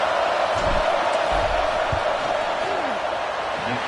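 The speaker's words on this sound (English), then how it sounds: "This crowd trying to do its part to get inside the kicker's head." A stadium crowd in the NCAA 26 college football video game roars steadily during a field goal attempt. The dense, continuous wash of noise stays loud throughout, with a voice faintly underneath.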